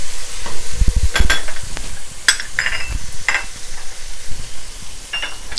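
Onions with salt frying in oil in a pan, a soft steady sizzle broken by a few sharper scraping stirs and clinks of a utensil against the pan, with no talk.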